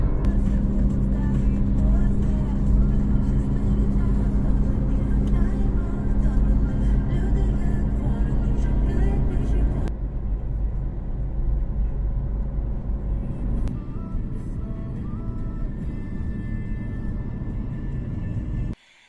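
A car drives along a road on the way to a newly bought village house, its steady low engine and road rumble continuous throughout, with a brief change in the cabin noise partway through.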